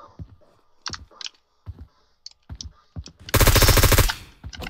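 Automatic FAL rifle fire in the Roblox BRM5 shooter: a loud, sustained rapid burst of shots near the end, after scattered sharp single clicks and shots, close and dominant.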